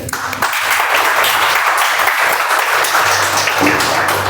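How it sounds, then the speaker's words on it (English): Loud, sustained applause from a Toastmasters club meeting audience, a dense wash of clapping that holds steady for several seconds with no pauses. "Let's have a huge round of applause for both General Evaluator and the tag team."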